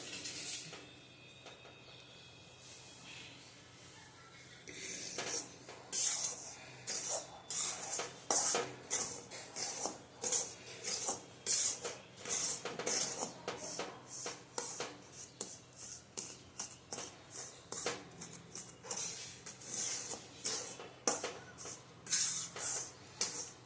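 A metal spoon scrapes and clinks against a pan as jowar flour is stirred and roasted for sukhdi. The clinks come in a quick, steady rhythm, close and moderately loud, after a quieter start.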